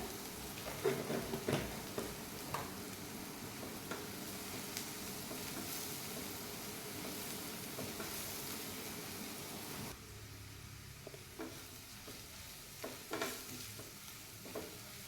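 Onion and masala frying in a pan, a steady soft sizzle with irregular scrapes and clinks of a spatula, louder early on and quieter after a brief drop, close by.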